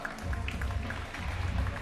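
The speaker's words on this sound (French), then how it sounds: "Applaudissements pour Hugo Bard" Crowd applause for a rider at an amateur scooter contest final, a short burst of clapping heard from a distance, mixed with faint crowd noise and low rumble.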